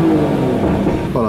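Biturbo V12 car in Sport Plus mode with its exhaust valves open, a loud, continuous roaring engine held at high revs for a short burst.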